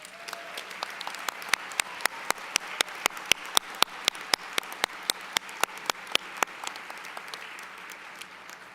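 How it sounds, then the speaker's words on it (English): Applause from the crowd at a college autumn commencement ceremony, steady and fairly distant in a large hall, with scattered sharper claps standing out through the continuous wash for about nine seconds. "Let's give them a round of applause."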